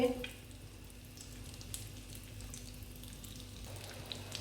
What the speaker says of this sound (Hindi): फिर ब्रेड क्रम्ब लगा के फ्राई कर लेंगे।